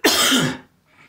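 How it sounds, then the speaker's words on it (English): A single loud, harsh cough up close, followed by a faint breathy tail and brief quiet. "Let me cough."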